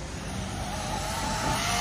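A Traxxas X-Maxx RC monster truck fitted with a Hobbywing MAX6 system whines at high speed, a dense rushing motor and tire roar that holds loud and unbroken through the short moment.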